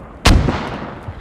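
A single heavy mortar round from the video game Squad lands with a loud, sharp blast, then a rumbling decay that trails off over about a second, with no voices.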